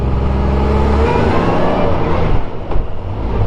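A 1994 Honda Goldwing GL1500 touring motorcycle engine pulls hard under acceleration, a loud, steady rumbling drone close to the rider that rises briefly, with no talking.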